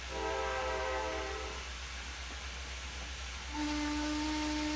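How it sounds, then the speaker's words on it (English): Amtrak train horn sounding in Trainz Simulator, a loud sustained multi-tone blast, a brief dip under rumbling rail noise, then a second long chord over the steady low roar of the passing train. "That would appear to be an Amtrak train."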